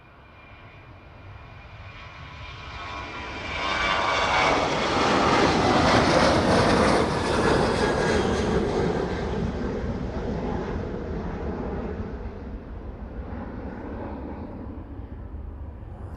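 An airliner takes off bound for Parma on an evening runway, its jet engines swelling from a low rumble to a loud, broad roar that peaks and then fades gradually as it climbs away, with no voices.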